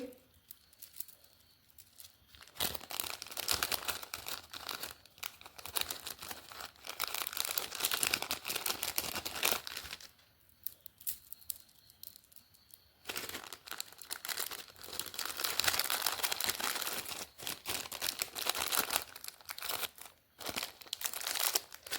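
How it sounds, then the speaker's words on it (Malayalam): Hair accessories such as elastic ties, clips and bracelets being packed into crinkly plastic wrap, with loud bursts of crackling and rustling broken by short quiet pauses, close to the mic and without talk. "അപ്പം ഞാൻ ഇതുകൂടെ പാക്ക് ചെയ്യാണ്"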